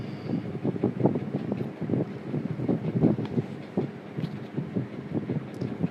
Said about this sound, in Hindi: ये आंधी चल पड़ी है यहाँ पर।